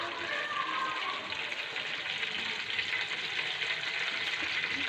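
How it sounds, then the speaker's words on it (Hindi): Cumin seeds frying in hot oil for a bottle gourd curry, a steady close sizzle and crackle that holds evenly with no talking. "अंदर हम थोड़ा सा ज़ीरा डालेंगे और उसको तराड़ लेंगे"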